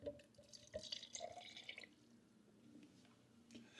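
Water trickles and splashes softly into an Aeropress coffee press fitted with an espresso adapter, a faint running pour with scattered drips that eases off partway through.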